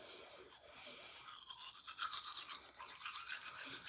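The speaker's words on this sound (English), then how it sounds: "So now I'm just gonna brush my teeth." Teeth brushed with activated charcoal coconut toothpaste, a close, continuous wet scrubbing hiss with quick back-and-forth strokes, fairly quiet and without talk.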